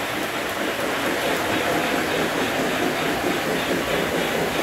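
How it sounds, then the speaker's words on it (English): A model Hogwarts Express train runs in an indoor train room, giving a continuous close rumbling and rattling of wheels on track at steady loudness throughout. "So this is the Hogwarts Express."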